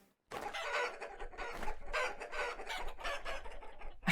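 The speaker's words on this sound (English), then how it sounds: "The chickens are crazy ass little things." Chickens clucking in the video game Vintage Story, a flurry of close, busy clucks and squawks in quick irregular bursts that overlap one another, starting after a short silence and running steadily to the end.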